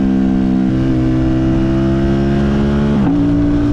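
A parallel twin sport motorcycle with an aftermarket exhaust holds a loud, steady high rev close by, then its pitch dips and jumps sharply as an automatic blip fires near the end.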